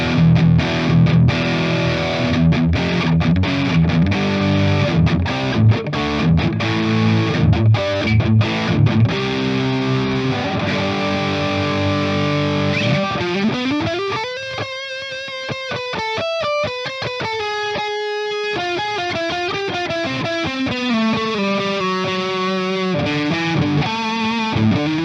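Electric guitar on a modded beginner instrument, played through high-gain metal distortion on the neck and middle pickups: chugging palm-muted riffs give way to sustained bends and melodic lead lines, loud and up front, with no voices.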